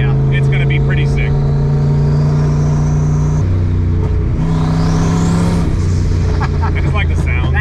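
Turbocharged V8 engine in a Lincoln accelerating hard, a loud close roar climbing in pitch through gear changes with a rising turbo whine, continuous and dominant throughout.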